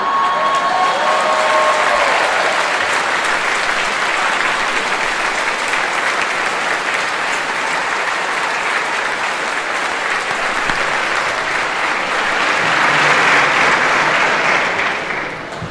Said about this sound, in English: this is how you get a standing ovation at the end of your speech